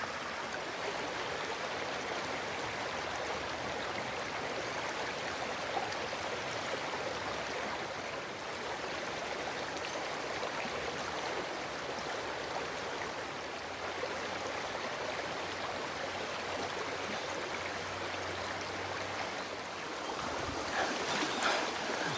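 Riverside water flowing over rocks, a continuous, even rushing and gurgling close by, with no talk and a brief low disturbance near the end.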